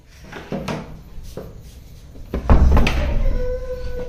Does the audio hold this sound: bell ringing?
no